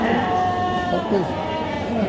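Lambs bleat a few times in short wavering cries while people talk nearby over a busy outdoor livestock market in Taraz.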